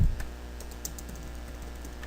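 Typing on a computer keyboard while editing text in a design program, a run of light, closely spaced key clicks heard alone over a faint steady hum.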